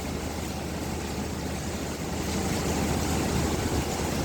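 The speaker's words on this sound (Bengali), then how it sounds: "খুব ঘন বাতাস হচ্ছে বাতাসের গতি বেশ অনেক জোরালো" A steady, dense roar of cyclone wind during Cyclone Remal in Cox's Bazar, broad and rushing, with no voices and a slight rise in strength toward the end.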